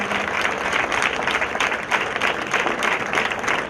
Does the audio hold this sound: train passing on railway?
no